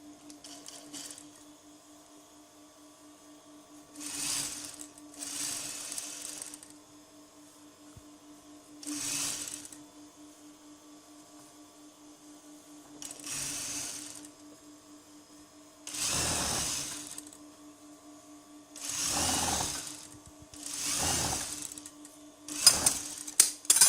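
A sewing machine stitches stretch fabric in repeated short bursts, each a few seconds of rapid mechanical whirring separated by quiet pauses, close and moderately loud with no talk.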